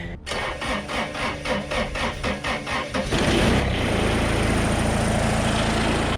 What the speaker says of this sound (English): So I'll fire up the tractor, let it warm up a little bit.